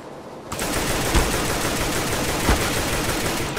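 Gunfire in the Counter-Strike video game, a dense continuous burst of rapid automatic shots, loud and close, with a couple of heavier punctuating hits.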